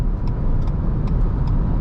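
A Renault Zoe electric car accelerates hard onto a road with the pedal floored, giving a steady broadband road and tyre rumble with faint ticking from inside the cabin.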